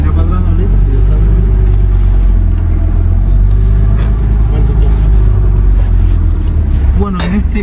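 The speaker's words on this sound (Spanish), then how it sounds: "ese es el auto donde vamos a ir" A car's engine rumbles steadily, loud and close, as the car drives toward Havana, Cuba. A low, constant drone runs underneath, with a brief rise in pitch near the end.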